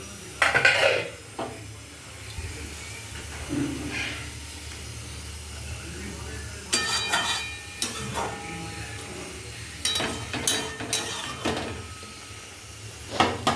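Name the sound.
hilsa fish pieces added to boiling poppy seed paste in pan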